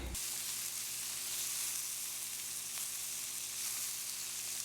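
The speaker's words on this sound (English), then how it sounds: "I'm going to be adding the shrimp and I'm going to be cooking that on either side." Shrimp fries in a pan with a steady, bright sizzle that holds evenly throughout, close and moderately loud, with a faint low electrical hum beneath and no talking.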